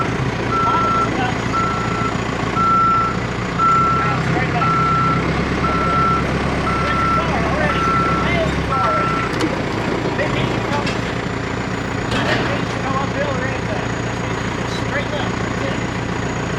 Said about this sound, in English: you back up and come straight in and hook the truck to it